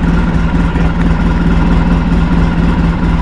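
A 2009 Polaris Ranger RZR 800 XP S EFI engine idles loud and close, a steady low-pitched running drone with no breaks throughout.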